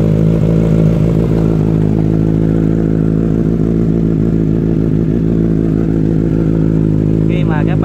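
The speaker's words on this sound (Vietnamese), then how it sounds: "sau đây mình sẽ nổ máy xe lên" A motorcycle engine starts and runs close and loud with a steady, rough idle throughout, and a brief higher rattle near the end.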